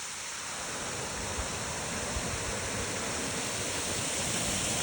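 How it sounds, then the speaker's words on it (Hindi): A steady, rushing roar of falling water, loud and continuous throughout with no voices. "ये देखो, यहाँ पर एक झरना है।"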